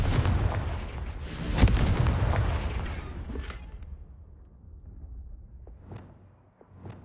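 A heavy booming blast from the Confringo spell in Hogwarts Legacy rumbles loudly at the start, then its echo decays over several seconds, followed by a few softer distant pops.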